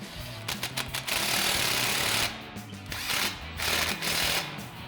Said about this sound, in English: we'll grab our 16 mil socket on our impact and just run this down so it's just snug